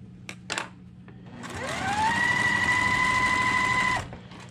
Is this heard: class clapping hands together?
no